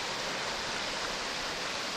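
River water rushing steadily at a gold prospecting spot near Canvastown, running slightly high, a continuous broadband wash with no pauses and no voices over it.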